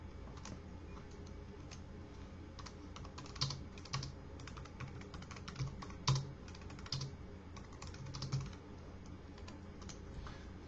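Rapid, irregular clicking of keys on a computer keyboard while writing Python code, close and fairly quiet, a few harder keystrokes standing out in short bursts with no talk.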